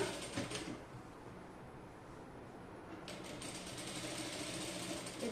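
A sewing machine stitches a child's crop top and skirt with a steady, close mechanical whirr that runs the whole time, shifting slightly in speed, with no voices.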